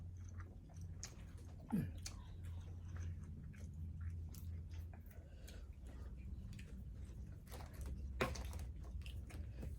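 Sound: chewing while eating rice

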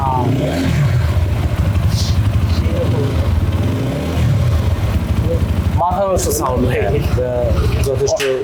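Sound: Lifan motorcycle engine and exhaust sound

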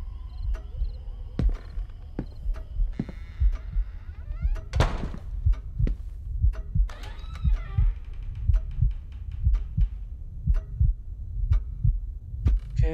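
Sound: loud heartbeat sound effect in Paranormal Activity VR video game

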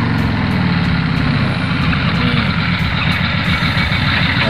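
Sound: palm oil truck driving over a damaged road

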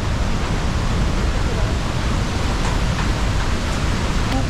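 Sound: Iguazu Falls waterfall, Argentine side

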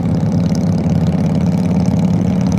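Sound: motorcycle engine with straight-through exhaust pipes

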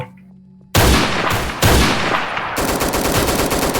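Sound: machine gun fire in a video game

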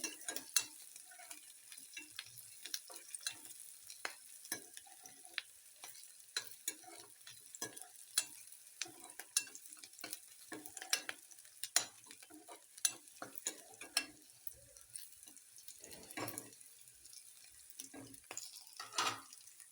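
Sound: ginger frying in a pan

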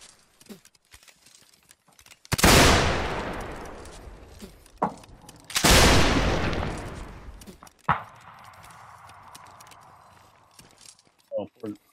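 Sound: gunfire shots from the video game North and South

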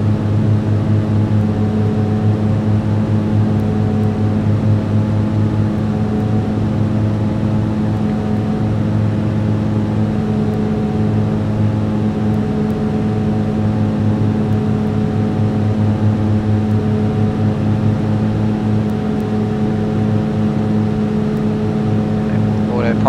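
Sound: Piper PA-31 Navajo twin-engine aircraft in flight, propellers at 2500 RPM

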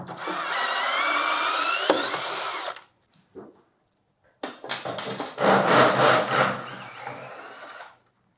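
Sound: 10 mm socket removing freezer mounting brackets from skid

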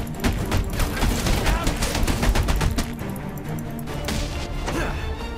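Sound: gunfire from Deadshot in video game Batman: Arkham Origins

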